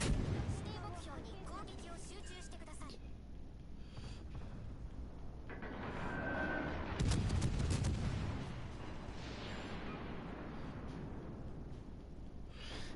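Warship guns fire in World of Warships Legends, a battleship engagement at about 12 kilometers range: deep rolling booms and rumbling salvos run for the whole stretch, a louder burst swelling partway through, with a voice faintly underneath.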